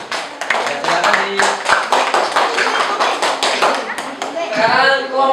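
A classroom group claps for a student team after their presentation, steady close applause from many hands lasting several seconds, with some voices mixed in near the end.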